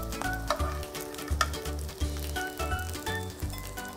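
Vermicelli and mashed potato patties frying in oil in a pan, giving a continuous sizzle with crackling pops and occasional clinks of a utensil, close up and with no talk.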